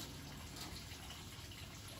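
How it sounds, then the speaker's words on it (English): A water pump in a fill system runs and pushes water through, heard as a quiet, steady rushing gush with no pauses and no voices. "And now the pump is running kind of no matter what."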